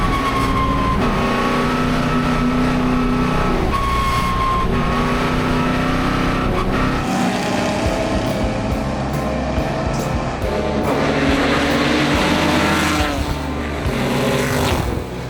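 Historic racing cars roar past at the Goodwood Revival motor race, engines whining and shifting pitch continuously as they accelerate, loud and sustained throughout.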